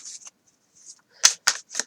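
Brief riffling of playing cards, a couple of soft flutters then three crisp ruffles close by, with quiet gaps between.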